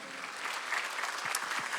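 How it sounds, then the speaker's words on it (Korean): Church congregation applauding together at a Sunday service, a steady, dense wash of clapping that holds at even strength for the whole stretch, with no voices over it. "우리 어머니 위해서도 박수 한번 쳐주세요."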